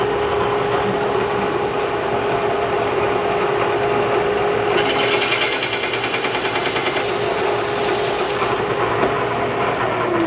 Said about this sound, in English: I'm going to show you guys how we deck a magnesium case.